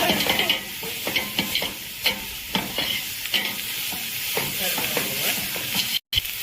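Masala with coconut powder fries in a pan for a village-style Rayalseema mutton gravy, a continuous close sizzle with repeated spoon scrapes and stirs, briefly cut off near the end.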